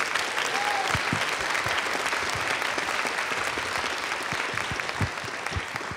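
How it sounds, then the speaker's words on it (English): An audience at a panel event on animation, comics and graphic novels gives a sustained round of applause for the volunteers: dense, even clapping that fills the whole stretch without letting up. "So let's give them a round of applause."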